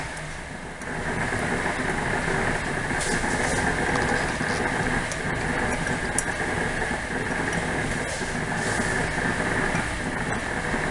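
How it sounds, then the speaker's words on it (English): A rice cooker running in a home kitchen, giving a steady mechanical hum with a constant tonal drone and a few faint clicks throughout, with no talking. "if you hear the noise come from my rice cooker"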